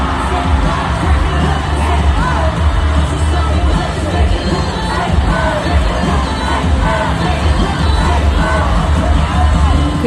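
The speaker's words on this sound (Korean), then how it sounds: "환호성과 비명이 터져 나왔습니다" Huge stadium crowd at a concert in Las Vegas during a song, a dense, continuous roar of cheering, screaming and whooping that stays loud and unbroken throughout.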